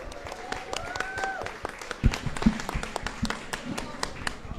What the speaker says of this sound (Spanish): Un aplauso para el equipo, a Vicky también.